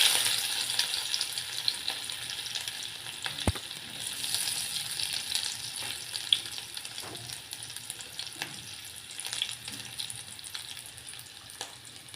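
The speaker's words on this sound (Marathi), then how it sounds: "एका कढईमध्ये तेल गरम करायला ठेवलेलं आहे आणि त्यामध्ये मोहरी, जिरी आणि अद्रक लसूणची पेस्ट टाकून घेणार आहोत" Mustard seeds, cumin and ginger-garlic paste fry in hot oil in a kadai, a continuous close sizzle with scattered sharp pops and a metallic clink of stirring.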